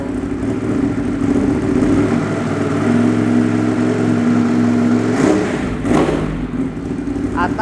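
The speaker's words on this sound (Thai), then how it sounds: "เร่งดีครับตอบสนองดีเยี่ยมครับ ไม่มีสะดุดแน่นอน" Ducati Monster 821 from 2016 with an SC Project carbon exhaust, revving loudly and steadily from idle, then rising in a sharp throttle blip near the end before settling back down.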